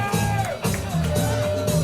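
Party crowd at a Sunday soul night cheering and shouting continuously, dense loud hubbub with whoops over a thumping music bed.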